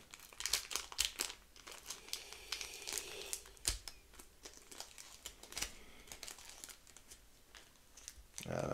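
A foil Yu-Gi-Oh! booster pack wrapper crinkles and crackles up close in a run of sharp, irregular bursts as it is torn open.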